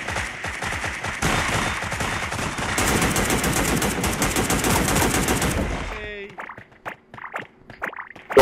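Rapid gunfire from the Sausage Man video game, fired in a sniper exchange, rattles as a dense stream of shots for about six seconds before breaking off into scattered game sounds, with speech mixed in.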